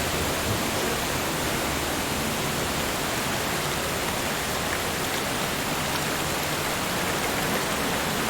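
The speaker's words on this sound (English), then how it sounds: "Pouring down with rain in there" Heavy rain pours down in the video game Death Mark, a dense, even hiss of falling water that holds steady and alone for the whole stretch.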